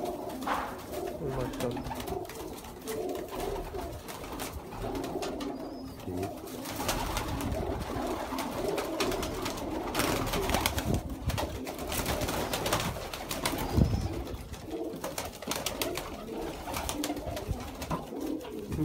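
Sialkoti pigeons coo in a coop, a steady close murmur of soft calls with a voice speaking briefly over the birds.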